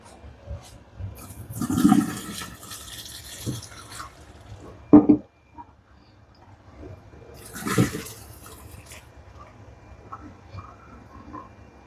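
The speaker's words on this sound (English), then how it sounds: "Get ready to dump all this water." Pasta water dumped out of a pot into a sink, heard as several separate rushing pours and splashes with quiet gaps between them.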